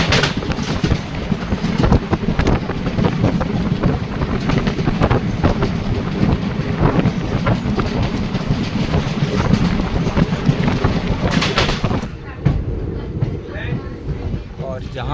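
A sleeper train on the Kalka to Katra route rumbles and rattles steadily with wind buffeting, then the noise drops suddenly near the end.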